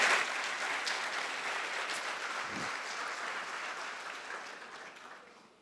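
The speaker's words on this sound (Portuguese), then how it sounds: "vamos aplaudir Jesus aí" A church congregation claps together, a dense, continuous round of applause that holds steady and then gradually fades at the end, filling the room with no speech over it.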